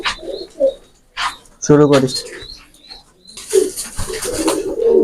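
Pigeons coo and chirp at a pigeon farm in Khulna, a low throaty coo standing out among scattered bird calls, with someone speaking briefly over them.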